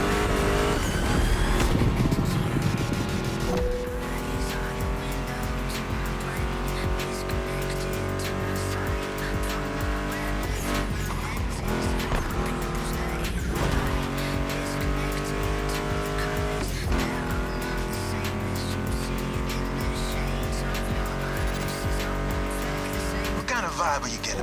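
A roaring Ford Mustang GT V8 engine revs and accelerates in a video game, tires squealing at moments, blended with driving rock guitar music throughout.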